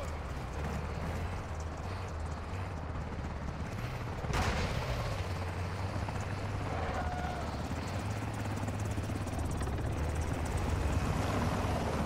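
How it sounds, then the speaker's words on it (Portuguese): An enemy helicopter approaches in the Call of Duty Warzone 2.0 DMZ video game, its steady rotor drone continuing under a sharp burst and distant gunfire-like cracks, with game ambience throughout. "Helicóptero inimigo a caminho da sua posição."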